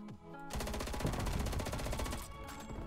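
An FFAR assault rifle in a first-person video game fires one loud, sustained full-auto burst of rapid, evenly spaced shots for about two seconds, close and with no talking over it.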